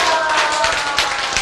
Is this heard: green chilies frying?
no